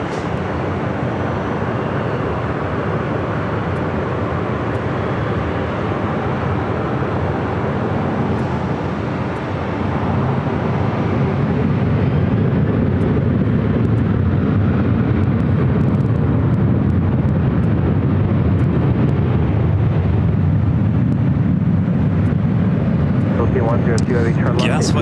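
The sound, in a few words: airplane taking off from runway 24 left at LAX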